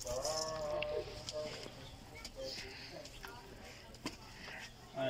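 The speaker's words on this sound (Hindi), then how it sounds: "ये भाई अंश है, इन्होंने अपना बकरा पकड़ा हुआ खुद ही" A male goat bleats several times as a person holds it at a farm vaccination. It is faint and thin, mixed with people talking and other farm animal noises nearby.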